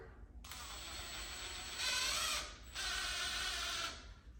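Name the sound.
4-inch screw being driven through a newel post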